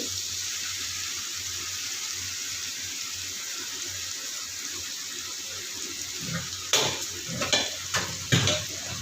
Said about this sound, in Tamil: வந்து எண்ணெயிலே போட்டுக்கிறோம் இப்படி போடும்போது பச்சை ஸ்மெல் வராது